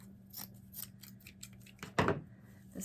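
Scissors trimming burlap for a pumpkin wreath, heard as several soft, quick snips close by in a quiet room, with one louder crunching cut near the end.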